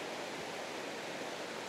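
Small waterfalls spilling down the side of the Hokitika Gorge river in wet weather, a soft, steady, even rush of falling water with no voices.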